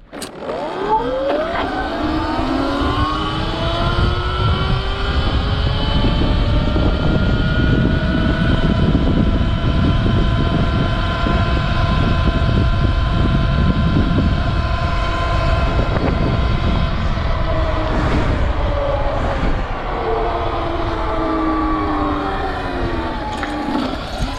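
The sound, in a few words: electric motocross bike accelerating to top speed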